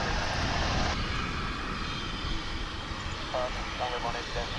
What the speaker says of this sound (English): This is Japan Airlines flight 6713 off to Narita in Tokyo.